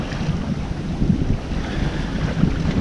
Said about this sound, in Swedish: Det är precis börjat blåsa nu på morgonen igen.